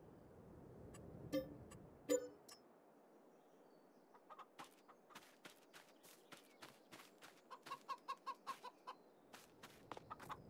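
Chickens and a single rooster on a farm in Farming Simulator 22, clucking in short scattered bursts, with a run of quick rhythmic clucks near the end, fairly quiet and with no one talking.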